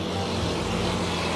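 A truck passing on a dry dirt road in Paraguay's Chaco region, a close, loud rumbling engine wash that stays broad and steady through the brief moment.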